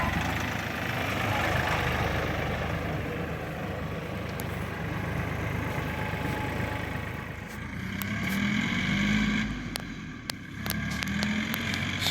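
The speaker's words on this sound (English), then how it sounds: "And you'll see just how much faster this tractor goes." A Kioti CK3510 tractor engine runs steadily in high range second gear, a close, even drone that swells and eases slightly, with a few brief clicks and a faint tone near the end.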